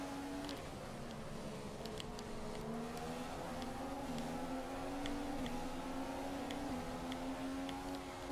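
Ferrari Formula 1 engine screaming steadily down a straight in the racing game F1 2015, a continuous high-pitched whine holding near-constant pitch with slight rises and small gear-shift dips, loud and alone.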